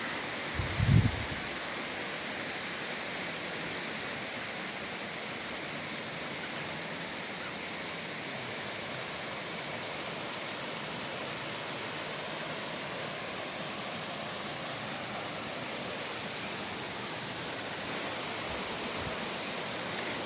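A waterfall near a village in Neer-Arbi, heard as a steady, even broadband rush that stays constant throughout, with a brief low thump near the start.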